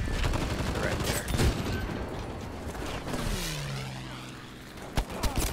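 Pistol fire in a video game, a clattering rush of shots and mechanical rattles under busy game noise, followed by a descending whine and a few sharp cracks near the end.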